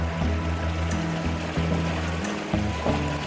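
Floodwater pours through a fully raised canal gate beside flooded farm fields, a steady, loud rushing roar with low churning rumble, continuous and close with no voices.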